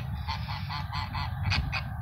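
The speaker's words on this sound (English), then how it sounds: "Now we know how the geese cross the road." Geese honking as they cross a road, a repeated chorus of nasal calls from a small group, fairly close and continuous over a low rumble of background noise.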